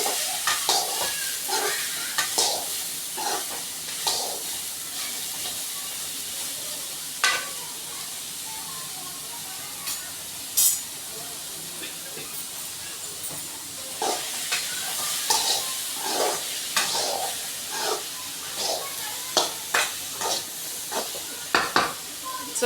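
Radish and egg stir-fry sizzles softly in a pan while a ladle scrapes and stirs in frequent sharp clinks. A faint voice speaks now and then.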